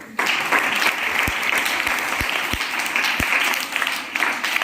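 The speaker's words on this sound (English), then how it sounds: "Yes, clap for them." An audience in a school setting applauds students with steady, dense clapping, a few sharp individual claps standing out near the front.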